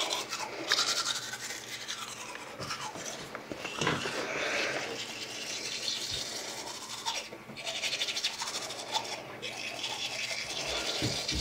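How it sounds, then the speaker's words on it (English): Teeth are brushed with a toothbrush after flossing, a close, steady scrubbing and rasping that continues throughout with brief pauses between strokes, no talk over it. "I like brushing after too,"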